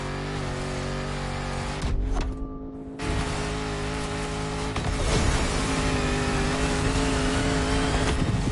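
Land Rover Defender with a 400-horsepower engine in the racing game The Crew Motorfest, revving hard with a loud, continuous engine roar, briefly cutting out for about a second before surging again under steady acceleration.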